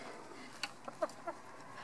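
A rescue hen gives a few soft, short clucks, about four spaced calls over quiet background.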